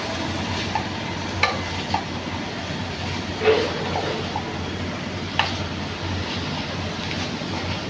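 Wild Machal/Karol leafy vegetable bhaji being stirred in a pan, a soft continuous scraping and faint sizzle with a few sharper spoon knocks against the metal, close and steady throughout with no talking.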